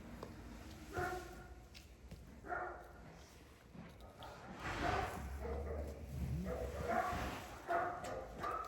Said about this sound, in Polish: Co to za pieski tam szczekają?